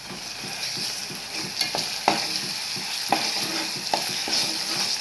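Ginger garlic paste frying in a pan for prawn curry, a continuous dense sizzle with occasional stirring scrapes and knocks, close and steady with no talk.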